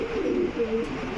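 A fancy quality pigeon with a showy hood coos in short, low, rounded calls at a pigeon farm, close and steady with no talk over it.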